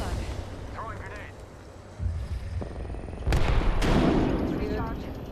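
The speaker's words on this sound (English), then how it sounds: "Throwing grenade." A grenade blast in the Apex Legends battle royale game, a sharp broadband burst followed by a second heavier boom amid ongoing gunfire and game noise, with voice chatter underneath.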